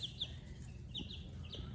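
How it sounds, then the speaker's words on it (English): Soft, repeated clucking calls from a rooster, fairly close, with several short bursts over a low steady background hum. "That's our rooster. That is our rooster."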